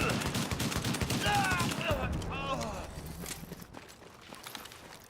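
Rapid bursts of gunfire from The Division shooter video game, a global event, dense and loud in the first half then thinning, with a speaking voice over it.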